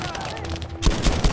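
Gunfire in Battlefield V, a sharp burst of shots erupting near the end after a brief stretch of background noise, loud and close.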